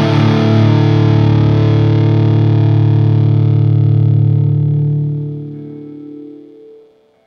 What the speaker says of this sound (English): So you can hear the dynamic shape of the filter in that example.